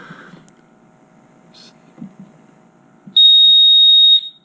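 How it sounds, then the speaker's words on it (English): A portable gas-monitoring instrument's alarm blares a loud, steady high-pitched electronic tone for about a second, following quiet handling noises and faint talk. "So that's how loud your alarm is"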